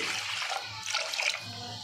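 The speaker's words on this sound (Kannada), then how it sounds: "ಅದು ಮುಳುಗುವಷ್ಟು ನೀರು ಹಾಕ್ಕೊಳ್ತಾ ಇದ್ದೀನಿ." Water is poured into a pressure cooker over washed moong dal. A brief, close splashing gush runs for about two seconds, with no talking.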